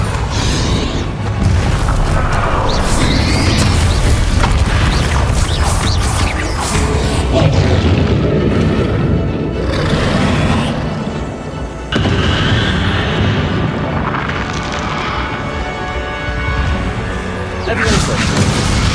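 Repeated magical spell blasts and crashes from the Confringo and Bombarda spells in the Hogwarts Legacy video game, loud and dense, overlapping with battle music and effects throughout.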